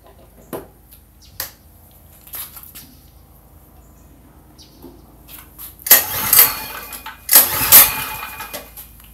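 A new portable generator's engine is pulled over and cranked, with faint handling knocks first and then two loud, close sputtering start attempts lasting about a second each, no talking.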